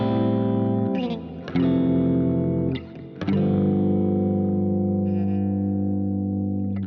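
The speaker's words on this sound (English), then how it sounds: "If I strum these chords, you will hear the harmony clearly." Electric guitar chords strummed through distortion and chorus effects ring out in several sustained strikes, loud and close, each chord decaying slowly with no talking.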